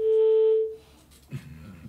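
Telephone busy signal, a single loud steady tone lasting about half a second before cutting off, followed by faint room noise and brief speech.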